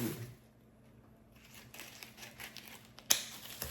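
Dried ancho chili peppers being cut open to remove the seeds, giving soft crinkly rustling that builds to a sharp snip near the end, quiet and close with no talking.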